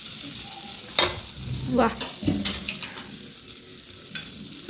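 Moong dal pancake cooking on a pan, with a soft sizzle under a few spatula scrapes and light taps, plus a brief spoken syllable.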